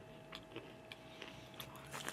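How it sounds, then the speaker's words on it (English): Biting through the hard chocolate shell of a chocolate-covered macadamia nut, giving several short, close crunches and chewing sounds at low volume with no talking. "I did not bite into the macadamia though yet. That was just the chocolate. And that was already a hard crunch."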